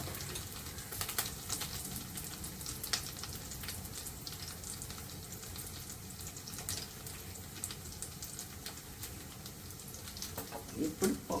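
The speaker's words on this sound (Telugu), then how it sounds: "తర్వాత కరివేపాకు వేస్తున్నాను, కొద్దిగా జీలకర్ర వేస్తున్నాను" Curry leaves and cumin seeds sizzle in hot oil, a steady close crackle that runs the whole time, with some clatter and a few sharper pops near the end.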